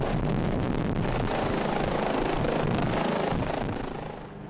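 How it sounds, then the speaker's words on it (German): Rescue helicopter Pelikan 2 of the Heli-Flugrettung Südtirol returning to base after a mission: a loud, close, continuous rotor and engine roar with rhythmic blade thumping, fading slightly at the end, no talking. "Der Rettungshubschrauber Pelikan 2 kommt von einem Einsatz zurück."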